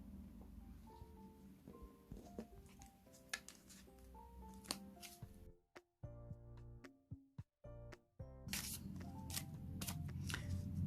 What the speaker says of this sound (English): So I'll just shuffle the cards